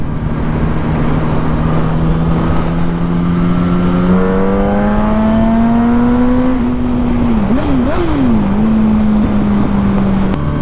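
Loud, close Yamaha R1 sport motorcycle engine with port-matched cylinder head and modified airbox and exhaust droning steadily, its revs climbing, then dipping and wavering before settling, exhaust note constant throughout.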